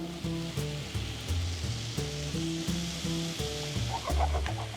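Paneer sizzles in a frying pan with a continuous crackling hiss, while low, stepped musical tones play steadily underneath.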